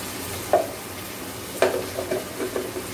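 Garlic paste sizzles in a hot pan alongside green chillies while a spoon stirs, with a few distinct scraping knocks over a continuous close frying hiss and no talking.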